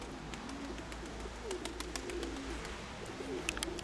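Pigeons coo softly at a loft, several low, repeated coos rising and falling over steady background hum, with faint higher chirps scattered throughout and no talking.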